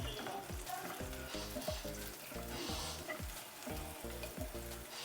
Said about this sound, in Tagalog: Gisa lang natin ang ating sibuyas at bawang.